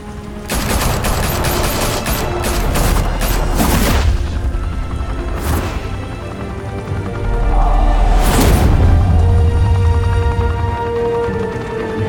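Gunfire in the video game Batman: The Telltale Series, heavy sustained volleys of rapid shots with booming low impacts, loud and dense throughout with brief lulls between bursts.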